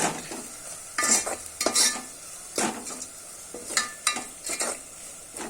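Chicken masala is stirred into hot oil in a pan, with repeated scraping strokes of a spoon against the pan over a soft sizzle, close by, rhythmic and uneven, without talk.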